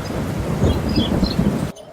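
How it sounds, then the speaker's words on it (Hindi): A heavy thunderstorm with a thick, constant wash of rain and low rolling thunder, loud and close, stopping abruptly near the end. "लगता है बहुत तेज आंधी चल रही है।"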